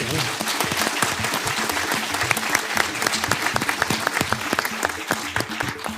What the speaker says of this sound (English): join me in a big round of applause